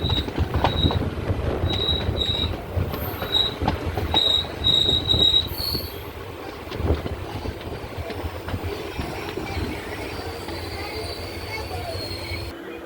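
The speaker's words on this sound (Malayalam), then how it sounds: "എഴുപുന്ന റെയിൽവേ സ്റ്റേഷനിലേക്ക് ട്രെയിൻ എത്തി." A train pulls into Ezhupunna railway station, wheels squealing in a series of high-pitched shrieks over rumbling carriages and clattering rails, then easing into a quieter steady roll.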